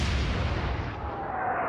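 A warship's primary guns fire in the naval video game Atlantic Fleet, making one heavy, loud boom with a broad rumbling blast that slowly fades as the high end dies away.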